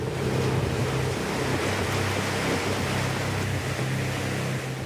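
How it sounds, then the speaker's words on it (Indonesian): Heavy rain driven by strong wind lashes Sleman, Yogyakarta, in extreme weather, a loud, steady roaring wash with no voices. "hujan deras disertai angin kencang menerjang sejumlah wilayah di Kabupaten Sleman, Yogyakarta."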